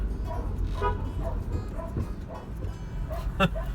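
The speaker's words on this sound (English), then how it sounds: "This dog's chasing me down, mate." Several dogs bark repeatedly at a passing vehicle in a Moroccan village, sharp yaps and woofs rising over steady engine and road noise, fairly close.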